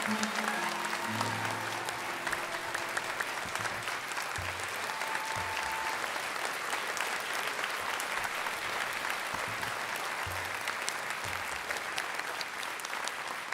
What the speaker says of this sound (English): And a round of applause for Mark.